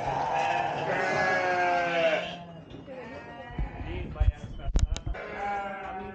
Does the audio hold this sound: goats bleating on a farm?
yes